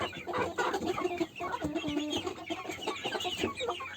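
Muscovy ducks calling in a farmyard, a busy jumble of close, soft clucking and chattering calls from several birds, continuous and irregular with no talk.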